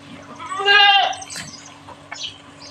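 Young goat kids bleat in a few close, loud cries with clear harmonic calls in the first half of the clip, followed by quieter rustling and farmyard sounds.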